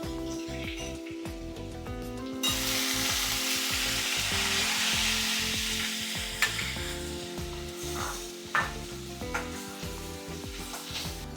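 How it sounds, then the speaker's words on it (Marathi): Ground onion paste sautés over ginger-garlic paste in a pan for a mushroom mixed-vegetable dish, giving a steady close sizzle with occasional scraping stir clicks and soft background tones. "कांदा छान परतला गेलाय."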